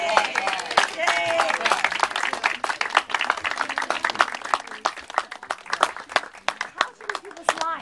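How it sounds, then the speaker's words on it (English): Party guests at a celebration of life clap together in a burst of sharp, uneven hand claps close by, with voices chattering throughout. "I think we should give them a round of applause for preparing this."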